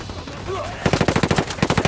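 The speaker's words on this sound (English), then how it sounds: "I'm opening fire." Video game gunfire, a rapid automatic burst of close, loud shots in a steady rhythm following a brief stretch of quieter ambience.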